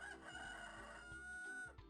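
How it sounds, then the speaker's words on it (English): A rooster crows once in the 102 Dalmatians video game, a clear, drawn-out call heard alone over steady game music. "once the rooster crows, then you're done with that task"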